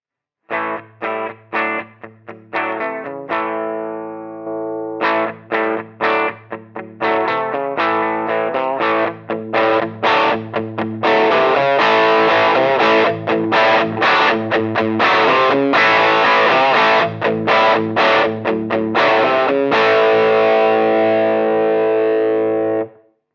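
Electric guitar runs through a Halcyon Gold overdrive pedal set for a focused, mid-heavy drive. Single picked notes come first, then denser driven chords and runs that swell louder and end on a long sustained chord.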